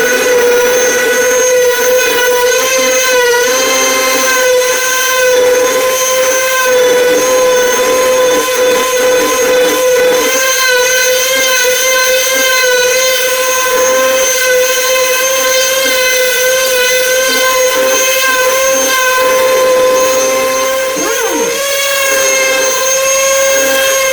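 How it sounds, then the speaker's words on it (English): A power sander works across the flat surface of a wooden Hitchcock Harvest Ivory end table, giving a loud, steady high whine that holds nearly unchanged throughout, close up. "So we'll get this sanded down and we'll move up to the next grade."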